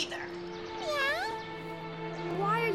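A cartoon cat gives a drawn-out rising and falling meow, then starts another, with a steady musical tone beneath.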